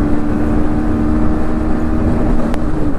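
A Bajaj Pulsar NS160 BS7 motorcycle fitted with an RS200 41-tooth chain set runs hard at speed in fourth gear, giving a loud, steady engine drone with heavy wind rumble and no voices.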